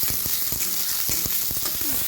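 Chopped onions and green chilies fry in hot oil for potato curry, a dense bright sizzle with periodic scraping stirs of a spatula against the pan, close and loud, with no speech.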